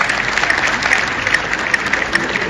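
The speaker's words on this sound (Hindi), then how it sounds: "तालियां बजाते रहो।" An audience at a comedy poetry gathering held at a school applauds loudly and continuously, a dense, steady wash of many hands with no break.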